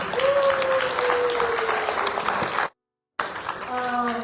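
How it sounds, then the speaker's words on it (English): Applause from the crowd at a diaspora political gathering in Chicago runs for a few seconds under a tonal hum, then cuts out briefly before resuming alongside talking and music-like tones. "A round of applause for these leaders."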